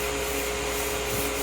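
Small wooden stair surfaces are hand-sanded with 180-grit paper, a short, continuous dry rubbing hiss up close, steady in level with no voices.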